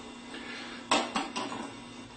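Socket tapped against the outer race of a bearing during a Bosch alternator rebuild for a Dodge truck: three sharp metallic knocks, close and distinct, over a steady background hiss.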